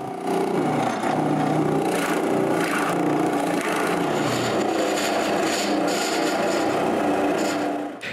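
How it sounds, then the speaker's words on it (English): A drill boring a hole into a wooden workbench leg to a set depth, a steady loud grinding whir with rough, scraping texture that runs continuously for several seconds without talk. "I begin by measuring its size and drill the leg to the right depth."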